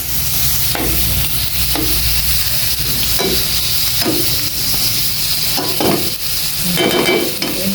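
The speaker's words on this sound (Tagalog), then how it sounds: "last na halo na siguro" Food fries in a pan with a steady sizzle while a utensil stirs it, scraping and clinking against the pan about once a second, close and clear.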